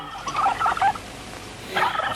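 A turkey gobble used as a sound effect in a horror film bursts out as a rapid warbling gobble, then pauses and returns in a shorter burst, moderately loud over a faint background hiss.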